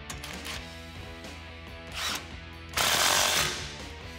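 Exhaust clamp being tightened on a V8 Ford F150 dual exhaust system with black tips, with rapid ratcheting clicks and metallic mechanical chatter that swell louder toward the end, close by with no talking.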